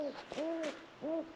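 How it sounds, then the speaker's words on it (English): An owl hoots three times from nearby outdoors at a campsite. The hoots are clear, evenly spaced and stand alone with no talk. "I can hear an owl. Right up there."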